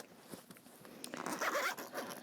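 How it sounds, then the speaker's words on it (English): Zipper pull drawn along the zip of a deep bag with a wire frame, a close, rasping run that builds and carries on for about a second, with small handling rustles before it and no talking. "she just added that zipper pull on here"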